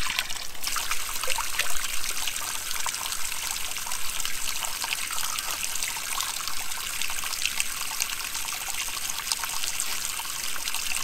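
Water trickles steadily from a well fountain on a hiking trail, a continuous bright splashing dribble heard close and fairly loud, with no voices.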